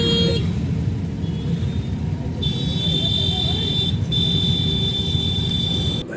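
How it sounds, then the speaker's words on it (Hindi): Road traffic in Badarpur with a constant low engine rumble close by and a long, shrill car horn sounding repeatedly over it. "ट्रैफिक देखते हैं, पूरा 10 से 15 मिनट वेस्ट कर दिया इस ट्रैफिक ने मेरा"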